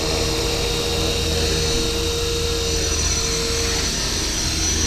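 An HK 450 RC helicopter in idle up spins its rotor head up to speed, a steady loud whine with a constant tone and broadband rotor wash, running without a break.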